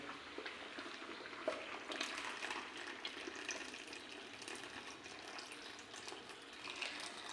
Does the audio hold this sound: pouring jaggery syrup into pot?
yes